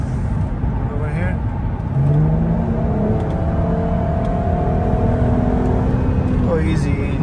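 A 2008 Audi TT 3.2L V6 quattro convertible accelerates on the road, its engine rising from a low hum to a steady drone heard from inside the cabin, with wind and road noise and someone talking over it.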